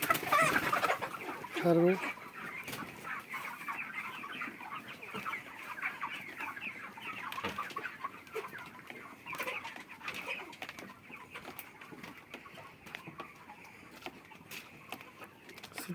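Broiler chickens cluck and chatter in a dense, continuous flock on a poultry farm on the birds' fortieth day, with sharper calls breaking through the steady din and a person speaking briefly near the start.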